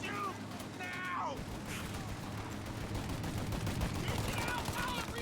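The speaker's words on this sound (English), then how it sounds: "Shoot out your gun when there's a break in the fire!" Rapid gunfire crackles through a shootout in Mafia: Definitive Edition, with machine-gun bursts and single shots under shouting voices and a dense, noisy backdrop.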